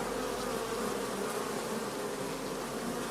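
Dense, continuous buzzing of many honey bees drinking an Enteronormin treatment for poisoning, close and steady throughout, with no voices.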